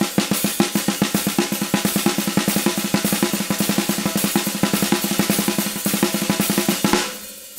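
Fast technical death metal drumming: a constant flam triplet split between hands on snare and hi-hats over triplet bass drum, forming a straight triplet blast at up tempo, dense and loud, stopping abruptly near the end.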